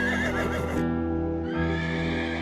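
A horse neighs and whinnies in an animated Hindi moral story about a prince lost in the forest, a loud, close, drawn-out whinny filling the short moment with no talk over it.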